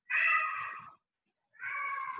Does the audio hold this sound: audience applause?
no